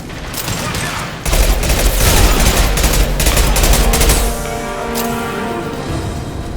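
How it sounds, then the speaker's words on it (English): Gunfire in the Mass Effect video game, with Blue Suns mercenaries and Vorcha shooting, heard as a loud, dense, continuous barrage of rapid shots that eases slightly toward the end. "Blue Suns and Vorcha shooting anything that moves"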